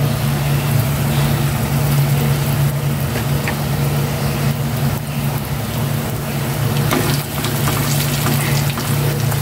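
Catfish fry in a pan of oil with a steady, loud crackling sizzle that lasts throughout, close to the microphone in a home kitchen, following fried saba bananas and eggplant.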